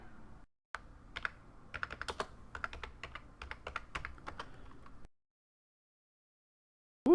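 Typing on a computer keyboard while playing Space Quest II, a run of quick, uneven close key clacks over a few seconds, then silence before a sudden sound at the very end.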